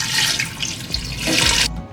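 Liquid pours steadily into a pot of French beef bourguignon stew with a splashing, rushing wash, close up, for about two seconds before stopping abruptly.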